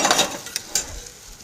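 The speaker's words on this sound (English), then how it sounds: "Check on our pork chops. Nice and sizzling in there." Pork chops frying in a pan over medium heat, with a steady hissing sizzle that fades and a couple of sharp spatter pops, close up and alone.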